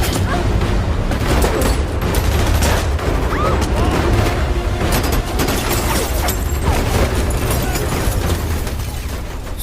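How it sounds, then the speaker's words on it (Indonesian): Gunfire in an action film about a hired driver caught up with the mafia: continuous loud bursts of shots and booming impacts over a dense, chaotic soundtrack, with occasional voices faintly underneath. "Suara tembakan yang terdengar"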